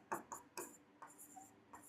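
Numbers are written on a board during a math class, a few short, quiet scratching and tapping strokes spaced out over two seconds.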